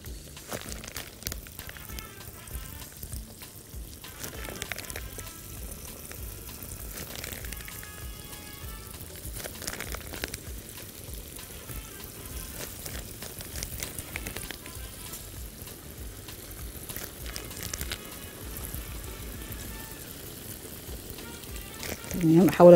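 Yeasted semolina dough squeezed from a small funnel sizzles and crackles steadily in hot frying oil, a constant close bubbling hiss that runs throughout.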